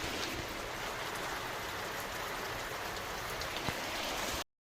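Heavy, prolonged monsoon rain over waterlogged fields, a steady dense wash of falling drops that holds constant for about four seconds before cutting off abruptly, no voices.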